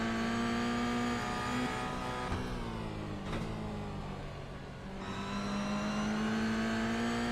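Stock car engines in a NASCAR sim racing game at Knockhill hold a steady droning note that dips briefly into a turn, then rises again as the cars pull away, loud and continuous.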